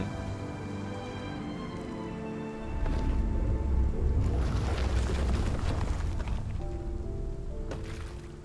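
A steady wash of rain in the video game Rime hisses over low droning music, swelling louder and denser after a few seconds with a rumbling undertone.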